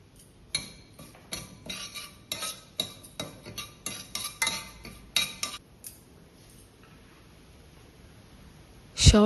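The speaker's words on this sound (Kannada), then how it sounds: "ಇವಾಗ ಒಂದು ಪ್ಯಾನ್ಗೆ ತುಪ್ಪ ಮತ್ತು ಶಾವಿಗೆನ ಹುರ್ಕೊಳ್ಳೋಣ" Vermicelli roasting in ghee in a pan while making hesarubele payasa: a metal spatula clinks and scrapes against the pan in a quick irregular rhythm for several seconds, then stops, followed by a louder clatter at the end.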